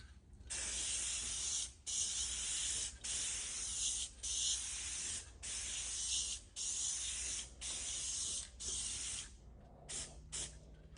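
A second coat of clear coating is sprayed onto a car headlight from a spray can, heard as a series of close, loud hissing bursts of about a second each, separated by short pauses, ending in a few quick short sprays.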